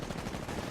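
Rapid automatic gunfire in the video game Titanfall, a dense rattling burst throughout this short moment, moderately loud and unbroken.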